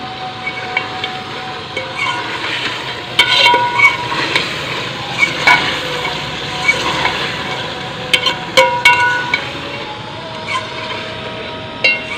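Chicken frying with masala in a pan, a steady sizzle running throughout with frequent scraping and stirring clatter from a utensil against the pan, close and fairly loud, with no talking.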